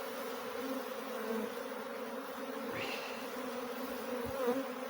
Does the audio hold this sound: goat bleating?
no